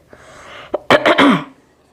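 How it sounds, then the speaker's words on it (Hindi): A short burst of coughing up close, a small throat sound followed by two or three harsh coughs in quick succession. "सॉरी, हाँ खांसी हो रहा है बार बार।"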